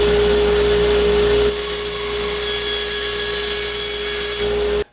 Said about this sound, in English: So we're just going to gang these up like this and just chop them right down the middle.